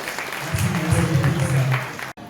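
Short burst of applause at a priest's 40th-anniversary jubilee celebration, honoring a guest present, with a voice speaking underneath before it cuts off abruptly.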